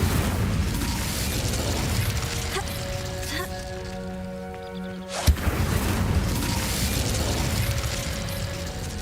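Incendio fire spell cast in Hogwarts Legacy, heard as a single sudden burst near the middle of the clip, cutting through steady game ambience and sustained musical tones.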